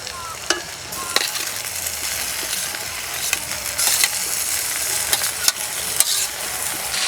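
Boiled flat beans and small shrimp frying in a pan, a steady hissing sizzle punctuated by sharp clicks and scrapes of a spatula, loud and close.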